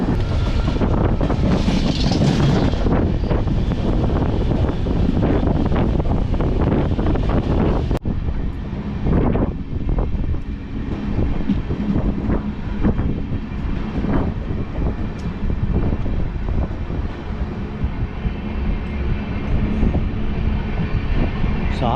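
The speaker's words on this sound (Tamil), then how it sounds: "பட் ட்ரெயின் வந்து நிற்கிற மாதிரி போகுது." The Tambaram to Senkottai SF Express runs on from Virudhunagar Junction: a loud, continuous rumble of wheels and carriages with heavy wind buffeting, steady for over twenty seconds and easing slightly after the first stretch.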